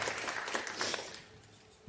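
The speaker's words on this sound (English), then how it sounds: "give them all a warm round of applause" Audience applause after a panel session at an OECD side event on Arctic policy, a dense steady patter of clapping that fades toward the end.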